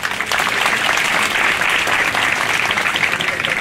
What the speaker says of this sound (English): Please give a round of applause for all our dear guests and participants in today's ceremony.